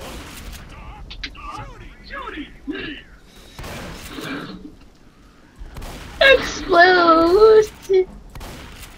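Explosive-ammo gunfire in Left 4 Dead 2 on the Back to School map, heard as a cluster of punchy bursts under lively talk from players.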